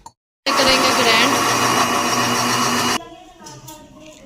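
A blender grinds sautéed onion and green chillies with a little water, a loud steady close whir for about two and a half seconds that then cuts off, leaving quieter kitchen sounds.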